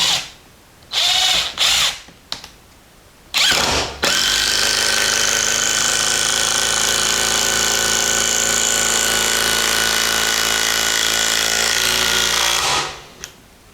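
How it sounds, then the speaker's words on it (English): A Black & Decker BDCI20C 20-volt impact driver drives a 5-inch gate bolt into wood, a few short bursts giving way to one long, loud, steady run of rapid hammering impacts before it stops. "as it runs, you're going to hear that hammer hitting the back of it, forcing the bolt in"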